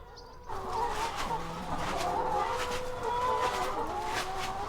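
Hens clucking on a farm, a steady run of short, close, fairly loud clucks and calls over a constant background hum.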